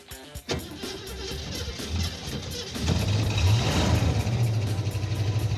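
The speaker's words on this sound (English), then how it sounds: "Sounds like a small block Ford." A 1969 Ford Mustang with a small-block 302 Windsor V8 starts with a sharp catch, then idles roughly before revving louder and holding a throaty, uneven rumble.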